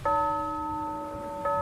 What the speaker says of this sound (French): Une alarme résonna sur le pont du navire,